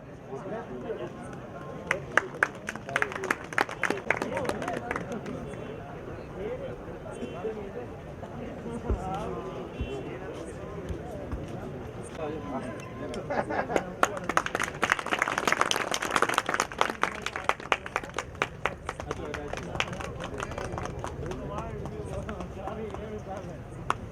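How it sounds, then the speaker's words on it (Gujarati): An audience applauds at a devotional music night during an annual temple festival. The clapping builds and swells midway and continues steadily, with a voice talking over it. "આપણે સૌ એમને તાળીઓથી વધાવીએ"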